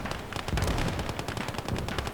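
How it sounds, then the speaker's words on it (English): Rapid bursts of gunfire and explosions crackle in a World War II strategy game, a fast dense rattle of shots and blasts that keeps going without a break for the whole moment. "So those mortars are hitting around me."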